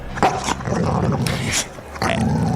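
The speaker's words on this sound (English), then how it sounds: "he runs around and has a wonderful time barking" Basil the Boxer dog barks and growls while running on the beach at Half Moon Bay, a few loud close barks with rough growly noise between them.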